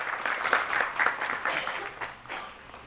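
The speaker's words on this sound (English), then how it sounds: "Give a heavy round of applause for them." A crowd at a medical education event claps together in a warm burst of applause that swells and then gradually tapers off.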